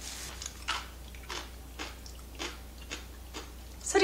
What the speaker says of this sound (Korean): 소리 들리시죠? 아삭아삭한 맛.